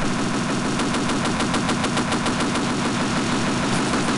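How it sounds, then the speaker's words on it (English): A mounted turret in Half-Life fires continuously in a dense, loud, rapid stream of shots with no pauses and no talk. "Get on this turret, because turret sections required in every video game."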